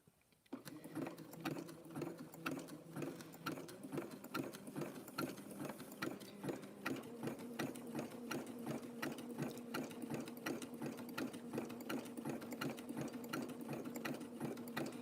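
Sewing machine set to zigzag, stitching rope and fabric for a tea cup and saucer, runs in a steady fast mechanical rattle for the whole stretch, close and even with no talk.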